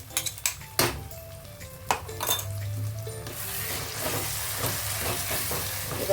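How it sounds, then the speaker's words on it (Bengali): Spinach cooking with spices in a pan is stirred with a utensil, making scraping and clinking against the pan over a soft sizzle, busier at first and then settling into a steady frying hiss. "এই মশলার সঙ্গেই নাড়াচাড়া করব আমি"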